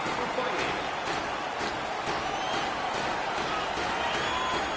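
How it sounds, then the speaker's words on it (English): Home crowd roaring in NHL 19, a broad continuous wash of cheering and noise with faint sharp impacts recurring through it, steady and loud across the clip, with commentary voices over it. "The home crowd is ecstatic. They're making all kinds of noise."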